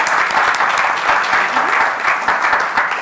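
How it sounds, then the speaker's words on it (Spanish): Dense, loud applause from the audience at a science café talk on paleontological heritage, clapping for the kids, a steady unbroken patter of many hands lasting several seconds. "Yo les voy a pedir un aplauso primero a Roberto"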